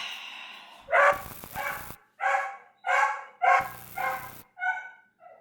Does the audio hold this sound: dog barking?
yes